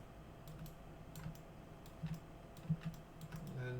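Light, irregular keystrokes tap on a computer keyboard, faint and close, scattered clicks spread across a quiet background hum.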